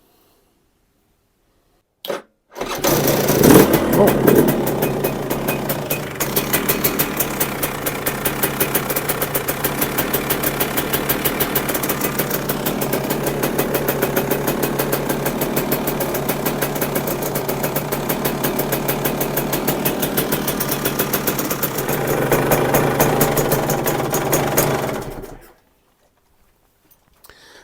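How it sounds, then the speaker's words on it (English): A GPX TSE 300 two-stroke motorcycle engine sputters to life and settles into a steady, buzzing idle that runs for about twenty seconds before cutting off. "So we'll just fire the engine up now."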